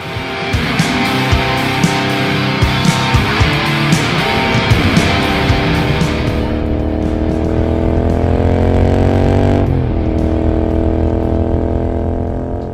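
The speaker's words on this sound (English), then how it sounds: "pop the bike in 6th gear and let the engine rumble away" A 2020 Royal Enfield Continental GT650 motorcycle engine rumbles steadily while cruising in sixth gear, a continuous deep drone with a slight pitch shift near the end and no voices.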